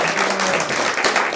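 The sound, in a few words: congregation applause in church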